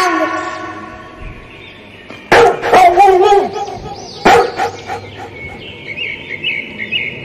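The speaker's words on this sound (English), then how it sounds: "D for dog." Dog barking sound effect in a children's alphabet phonics song, two sharp barks standing out over background music, with birds chirping in the mix.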